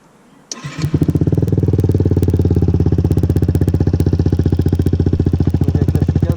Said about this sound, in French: vous verrez que le scoot démarre du coup sur la béquille